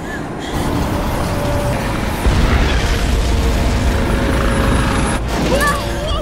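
An explosion blows up a tornado in the film Sharknado, heard as a loud, sustained roaring rumble lasting several seconds with a brief dip near the end.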